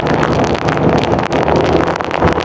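Steady, loud wind buffeting a microphone on a motorcycle ride in the rain, a continuous rushing roar with no pauses.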